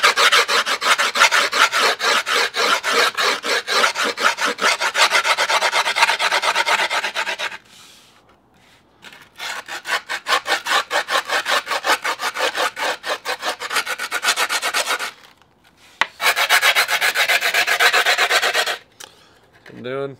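Abrasive sanding and filing strokes smooth the cut edge of griptape on a skateboard deck, a loud, steady rasping run broken by two short pauses, with no talk.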